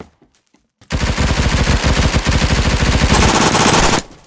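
Automatic gunfire in the first-person shooter Phantom Forces, a long loud, dense rapid burst of shots lasting about three seconds after a brief quiet lead-in, then cutting off abruptly.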